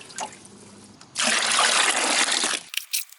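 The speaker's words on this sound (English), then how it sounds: "we're gonna water our Valencia orange tree with fish fertilizer." Water pours steadily onto a Valencia orange tree being watered with fish fertilizer, a loud rushing gush that starts suddenly after a quieter opening and cuts off abruptly near the end.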